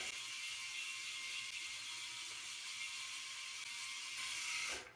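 An electric foil or rotary shaver, either a Philips Norelco 9800 or a Panasonic ARC 5, buzzes steadily and close by for several seconds before it cuts off at the end.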